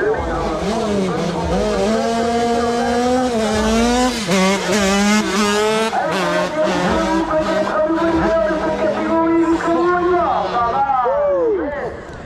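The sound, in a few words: motorcycle passing fast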